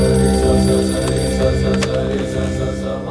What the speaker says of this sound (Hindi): हे, रामाचारी जी को फोन कर